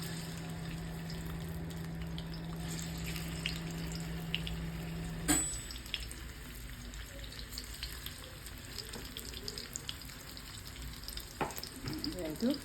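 Anjal fish frying in gingelly oil in an iron pan gives a steady, close sizzle, with a sudden clatter about midway, then a softer, more muffled frying hiss with light scrapes.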